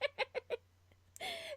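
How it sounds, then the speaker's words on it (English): Chickens clucking close by, four quick evenly spaced clucks followed by a longer drawn-out squawk, fairly quiet. "Chickens."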